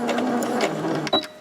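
Sewing machine stitching a fabric snood, a steady mechanical hum running throughout with a brief sharper click near the end, close and moderately loud.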